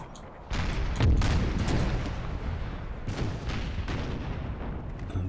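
Musket volleys and artillery fire from 90 gunners in the video game Empire: Total War, with repeated loud booming blasts and crackling gunfire in uneven bursts across a dense battlefield din.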